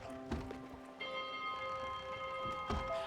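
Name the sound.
ship's bell rung in video game Spiritfarer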